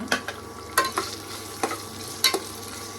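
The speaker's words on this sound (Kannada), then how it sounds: "ಪೊಟ್ಯಾಟೊ ಎಲ್ಲನೂ ಹಾಕಿಬಿಟ್ಟು ಒಂದ್ಸಲ ಫ್ರೈ ಮಾಡ್ಕೊಂಡ್ಬಿಡೋಣ" Potatoes frying in a pan for vegetable pulao, a soft steady sizzle punctuated by sharp spatula scrapes and taps in loose pairs, close by and with no talking.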